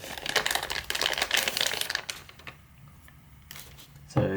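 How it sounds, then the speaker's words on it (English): A Nintendo Switch OLED console in Neon being unwrapped from its packaging, with dense crinkling and rustling of plastic wrap for about two seconds, then quieter handling and a sharp rustle near the end. "So let's just unwrap the Nintendo Switch."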